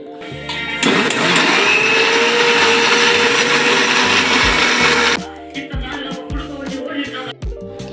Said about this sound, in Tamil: இப்போ நெல்லிக்காவையும் ஆலோவேரா ஜெல்லையும் அரைச்சி எடுத்துக்கிறோம்.